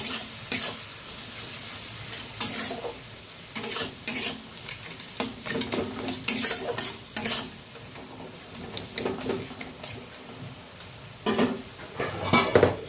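Foli fish curry seasoned with turmeric, Kashmiri chili powder and sugar is stirred briskly in a metal pan, with repeated loud scrapes and clinks of the spoon over a low sizzle, close up; no one talks.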